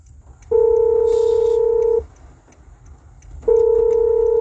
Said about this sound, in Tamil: ஏதோ ஒரு ஃபோன் ரிங் பண்ணுது